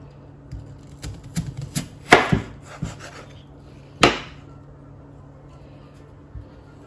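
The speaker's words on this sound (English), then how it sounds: "Just basically chop it some big sheets of potato." A knife chops potato into batons on a board, giving a series of irregular woody knocks and taps, with a few louder cracks, close up and fading into quiet at the end.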